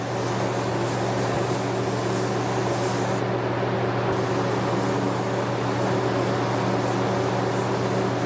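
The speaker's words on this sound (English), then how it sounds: "we're going to spray a test card" A paint spray gun hisses steadily onto a test card while matching paint for a '37 Chevy, a loud, unbroken airy rush with a constant low hum beneath it and no talk.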